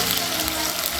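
Onions frying in hot oil in a sufuria, a loud, dense, unbroken sizzle heard up close.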